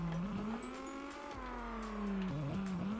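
Drift car in the CarX Drift video game, its engine holding a high, strained whine that swings in pitch as the throttle shifts, with tyre squeal mixed in, loud and continuous with no voices.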